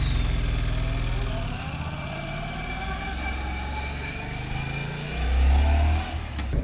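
A 700cc motorcycle engine idles near and loud, then swells in a short rev before settling again, with a voice briefly speaking over it outdoors.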